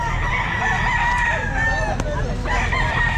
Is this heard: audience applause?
no